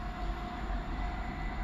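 Train 165122 runs through a station without stopping, a loud continuous rumble and roar of the passing rail cars that holds steady, with no speech.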